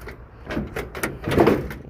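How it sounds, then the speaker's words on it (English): An old, long-abandoned 1968 Ford Mustang has its door swung open and pushed shut, giving a few creaky scraping movements and dull metallic thumps close by, with no talking. "Door still opens and closes."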